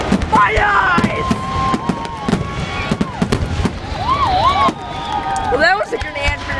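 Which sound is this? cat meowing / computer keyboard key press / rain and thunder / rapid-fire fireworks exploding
rapid-fire fireworks exploding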